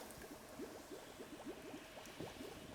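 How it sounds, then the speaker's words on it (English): Water pouring into a pot in the game Cairn: a quiet, continuous watery trickle with bubbling, gurgling pops repeating rapidly throughout, soft and close. "Alright, so now we want to put water in there."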